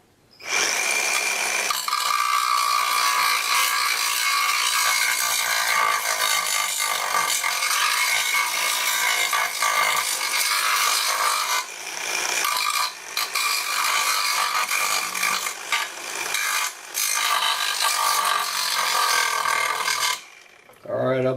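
Angle grinder running off a Greenworks 60v power inverter, grinding continuously and loudly for about twenty seconds with a steady harsh whine and small dips, cutting out near the end.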